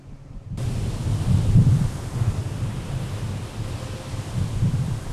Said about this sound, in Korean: 거친 파도는 단단한 콘크리트 구조물까지 무너뜨릴 정도로 위협적이다